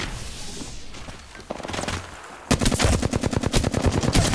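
Rapid automatic gunfire from the Apex Legends video game, a dense burst of loud close shots in quick rhythm following a few scattered earlier shots and rumbling battle noise.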